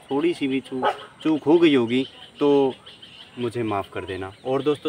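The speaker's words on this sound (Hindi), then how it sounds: "सबसे पहले तो जो बैकग्राउंड में ये आवाज़ आ रही कुत्ते वगैरह की," Dogs bark in the background, mixed with what may be poultry clucking, underneath someone talking steadily in the foreground.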